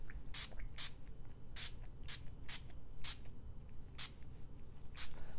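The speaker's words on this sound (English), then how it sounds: "And I'm just going to tilt it and spritz." Spray bottle spritzing water onto watercolour paper, a series of about ten short, soft hissing puffs in an uneven rhythm, close and quiet with no talking.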